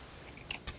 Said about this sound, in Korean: 뼈까지 다 씹어 먹으면 돼요